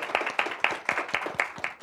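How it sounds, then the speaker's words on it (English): A small forum audience claps in a brief round, individual hand claps close and distinct, falling in a quick, uneven rhythm of about eight beats. "So round of applause for that."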